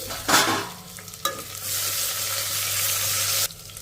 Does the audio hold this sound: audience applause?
no